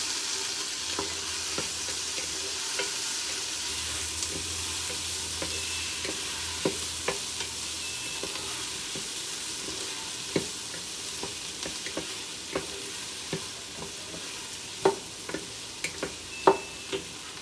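Tomatoes sauté in a hot pan for mung bean stew, giving a steady soft sizzle with frequent light clicks and scrapes of stirring that grow more frequent toward the end, with no voices.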